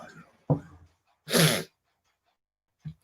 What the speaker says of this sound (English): Oh, you got the sniffles.